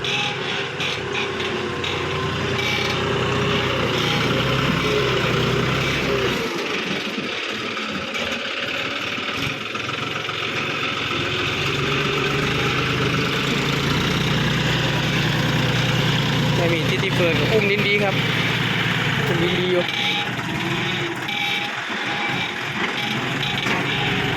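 A 5045D tractor engine runs continuously at close range, a steady loud rumble and drone with little variation over the whole stretch.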